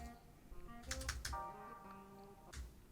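Soft, quick keystrokes on a computer keyboard type out a short name, a brief burst of clicks with a pause and a final tap, close and quiet.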